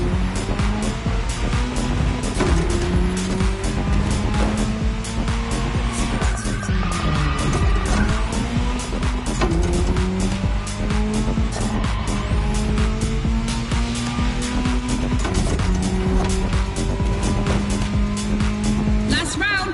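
Rally cars, an Audi S1 and a Ford Puma Hybrid Rally 1, race with engines revving up and down and tires squealing continuously, loud throughout with a commentator talking over them.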